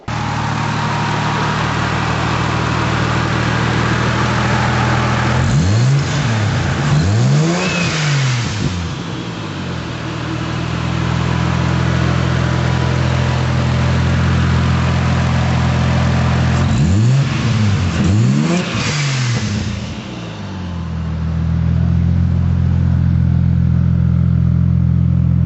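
A 2015-or-later Subaru WRX fitted with a cheap dual-port, dual-venting blow-off valve revs loudly and close by, with two rising-and-falling rev bursts over a steady idle and no talking.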